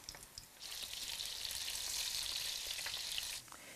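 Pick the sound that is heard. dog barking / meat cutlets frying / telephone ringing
meat cutlets frying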